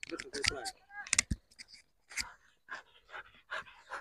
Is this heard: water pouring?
no